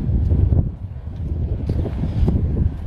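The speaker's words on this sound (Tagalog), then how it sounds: "medyo mahangin po ngayon" Steady wind buffets the microphone with low, rumbling gusts that rise and fall, with no voices.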